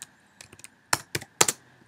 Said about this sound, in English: I'm going to type in a new keyword